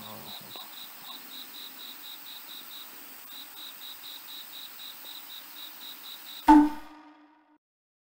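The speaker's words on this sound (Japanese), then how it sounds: "お、コオロギ。" Crickets chirp at night in a steady, rapid pulsing trill that runs for several seconds. A sudden close bump and rustle then cuts it off, leaving near silence.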